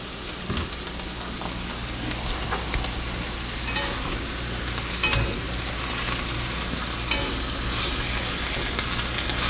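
Butter sizzles in a pan used for Salisbury steak, a dense, steady hiss that thickens slightly toward the end, with a few soft scrapes mixed in.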